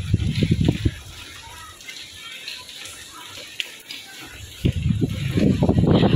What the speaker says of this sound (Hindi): आवाज से आप पता लगा सकते हैं कि कितनी तेज बारिश है।